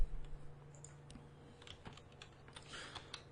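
Typing on a Color Computer keyboard, quiet scattered key clicks in an irregular rhythm, close and fairly faint over a low steady hum.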